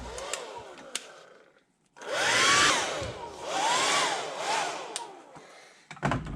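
A hair dryer blows on fresh airbrushed paint on a holographic jerkbait fishing lure, running in a loud steady whoosh for several seconds, with pitch changes as it is moved, between quieter handling noises.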